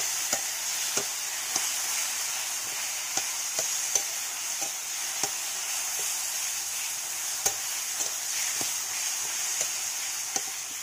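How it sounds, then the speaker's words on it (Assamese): Tomatoes fry in a pan with a constant bright sizzle, regular light taps of a spoon stirring them ticking through the hiss. "বিলাহীখিনি ভাজা গেল"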